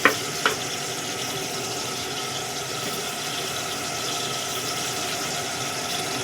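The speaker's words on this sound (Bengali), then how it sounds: "একটু কালো জিরে ফোড়ন দিলাম" Nigella seeds tempering in hot oil, in a pan where fish was just fried for rui posto, a steady close sizzle after a couple of brief clinks at the start.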